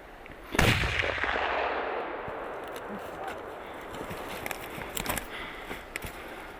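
A single loud gunshot from a .50 caliber CVA Accura rifle cracks outdoors during a black bear hunt in British Columbia, followed by a long fading rumble and faint rustling and footsteps.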